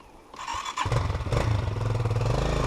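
A GEON Scrambler 250 motorcycle starts up and revs hard, its engine snarling loud and close, rising after a brief quiet moment and holding a steady throttle roar.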